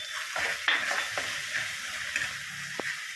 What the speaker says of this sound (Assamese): এতিয়া পোস্তটো অলপ ভাজা হৈছে